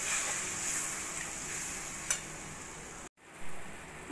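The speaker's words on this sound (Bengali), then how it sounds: "মশলাটা তলে লেগে যাচ্ছে, সেই জন্য একটু জল দিয়ে ভালো করে একটু কষিয়ে নেব।" Spice paste with Kashmiri chili powder and a splash of water cooking in a pan for egg curry, a soft steady sizzle with a brief scrape, cutting out abruptly near the end before resuming.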